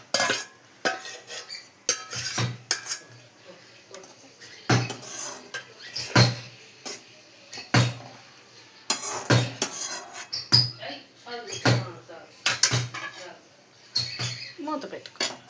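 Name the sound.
ivy gourd pieces added to a pan and stirred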